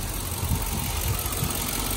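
A Chevrolet Suburban Z71 with the 5.3 engine idling close by, a steady low rumble with a faint rhythmic pulse and no talk.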